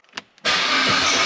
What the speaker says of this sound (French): on peut maintenant aussi démarrer avec le bouton start